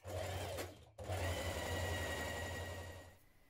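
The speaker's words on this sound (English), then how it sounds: "you're going to sew the two neck ruffle pieces together" A sewing machine runs steadily, stitching two neck ruffle pieces of a dress together with a 1.5 cm seam, a close, even whir with a brief pause before it continues and slows toward the end.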